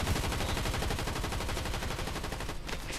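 Sustained rapid gunfire from a gun in a Fortnite Chapter 5 match, loud and continuous with a dense rattling stream of shots that briefly thins near the end.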